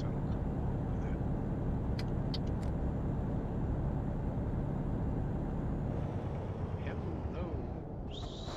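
Continuous road traffic rumble from vehicles in the Euro Truck Simulator video game, a dense steady wash of engine and tire noise with a few faint higher tones over it.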